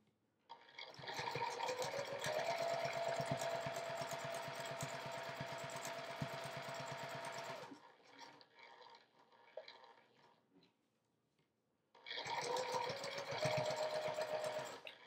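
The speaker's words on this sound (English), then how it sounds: "I'm going to just top stitch around it." A sewing machine top stitching a quilt project with a longer stitch length, running in a steady rapid chatter for several seconds, pausing briefly, then starting up again close by.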